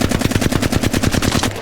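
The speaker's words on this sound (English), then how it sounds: "without trying to control the recoil, aim and shoot." Rapid automatic gunfire in the Apex Legends firing range, a loud continuous burst of evenly spaced shots.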